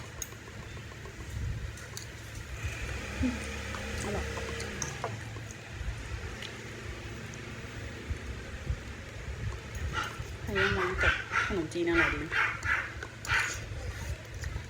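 A dog barks in several short bursts a little away, in a home kitchen during a Thai meal of rice noodles with green chicken curry, with brief speech early and steady low room noise.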